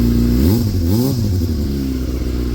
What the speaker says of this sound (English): I'll give it a little rev just to see.